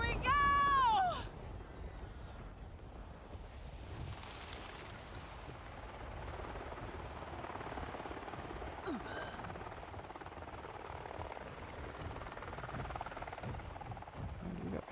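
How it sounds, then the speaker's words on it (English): Helicopters flying close by in the video game Avatar Frontiers of Pandora, a dense continuous rotor rumble filling the scene after a brief rising electronic tone at the start. "We got helicopters super close by."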